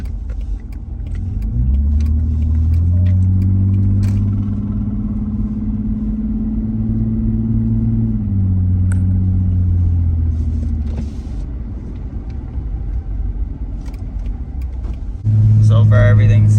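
Dodge car with a NAG1 5-speed automatic transmission on a test drive, steady loud engine and road rumble with engine pitch rising and dropping as gears shift, under someone talking throughout.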